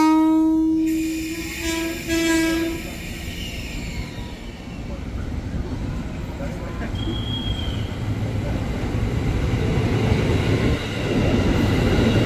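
A train horn blasts briefly, then a KRL Commuter Line train at Manggarai station, Jakarta, rumbles and builds as it pulls away, with a short screech of wheels partway through.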